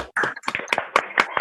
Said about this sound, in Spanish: Un fuerte aplauso que se escuche